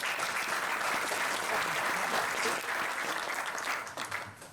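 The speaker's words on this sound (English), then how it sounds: "If I can have a round of applause for" A conference audience applauds the panelists at a rare and critical metals event, a dense, loud, sustained wash of clapping that holds steady before tapering slightly at the end.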